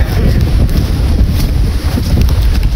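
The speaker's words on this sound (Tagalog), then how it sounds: "Grabe ang hangin!" Strong super typhoon wind under Signal No. 3 roars and buffets the microphone continuously, a loud rumbling gust with no letup.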